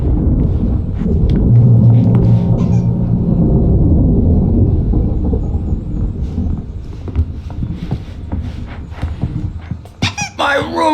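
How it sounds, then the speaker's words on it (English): A thunderstorm rolls through a scene in the game Alan Wake Remastered, with a steady deep rumble and wash of rain-like noise, sharp bright crackles near the end, and a voice talking intermittently over it. "There's a storm coming. Oh, what a storm."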